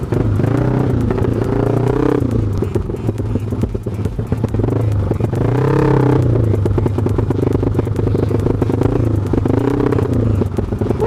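A Honda Vario scooter engine hums and revs steadily up close in Jakarta traffic, with the drone of traffic around it and no clear pauses.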